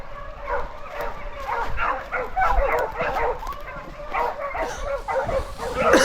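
A pack of hunting dogs on a boar hunt in Brittany bays and yelps in rapid, overlapping bursts, loud and close, with whimpers mixed in and occasional human voices.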